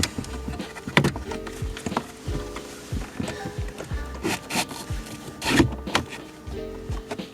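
A car display sliding into a Lexus LS 460 dashboard during a wireless CarPlay install, heard as close scraping and rubbing of plastic with scattered clicks and knocks, a few sharper taps standing out.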